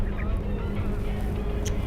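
Birds give goose-like honking calls nearby, a short burst of nasal honks over a low background rumble.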